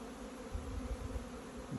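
A low, steady buzz of many honeybees droning close by at an open hive, faint and continuous with no talking.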